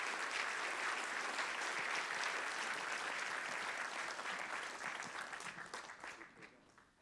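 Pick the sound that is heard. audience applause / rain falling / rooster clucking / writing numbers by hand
audience applause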